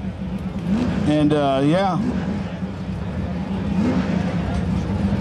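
A drag radial race car engine runs on nitrous oxide at a drag strip, its steady drone and a rising rev sweep heard under an announcer's talk.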